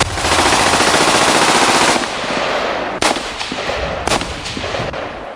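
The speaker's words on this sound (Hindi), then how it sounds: "इजराइल के फाइटर जेट गोलियां और तोप इस अमेरिका के जासूसी समुद्री जहाज पर बरसाना शुरू कर देते हैं।" Rapid, loud machine-gun and cannon fire from fighter jets strafing a ship at sea, a dense continuous roar of shots followed by sharper separate bursts and impacts.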